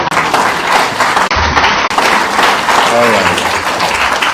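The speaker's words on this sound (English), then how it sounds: "Is that how we clap for ladies?" Audience clapping for the ladies at an event, a steady wash of applause with voices over it and a brief break partway through.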